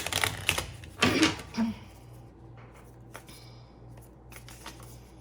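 A deck of cards being shuffled up close, a couple of quick riffling bursts followed by quieter handling and a low hum.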